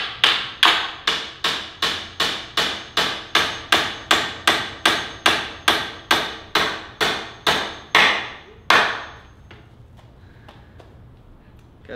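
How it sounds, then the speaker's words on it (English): Steady hammer blows strike about twice a second, sharp and close, a long run of even hits ending with one final strike before quiet. "Hammer it in there."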